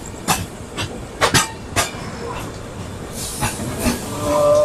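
The Navjeevan Superfast Express pulls into Peddapalli station, a series of sharp rail clacks and thumps over the joints followed by a rising hiss near the end, with someone talking over it.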